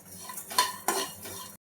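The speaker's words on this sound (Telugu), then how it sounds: "ఇవి ఫ్రై చేసుకోవాలి." Spices with a little tamarind are stirred as they fry in a pan for drumstick curry, giving a short burst of close scraping and clinking over a soft sizzle.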